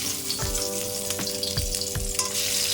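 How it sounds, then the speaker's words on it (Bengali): Fish pieces shallow-frying lightly in a pan, a dense close sizzle with a faint steady hum beneath and several soft thuds or scrapes as the pieces are moved. "মাছগুলো হালকা করিয়া ভাজি নিলে হয় যাবে বেশি কড়া না ভাজিলে হবে"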